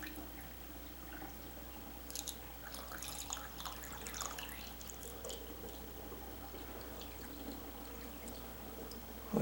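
Water drains down a bathroom sink that has just been unclogged, a faint, steady gurgling trickle with occasional small drips and squishes against a low hum.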